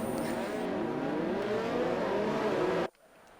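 Several race car engines drone and whine together during a formation lap in an F1 racing game set at Bahrain, a steady layered buzz of rising and falling pitches that cuts off abruptly near the end.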